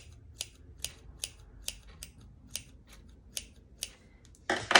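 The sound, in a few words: scissors snipping fabric of a rag quilt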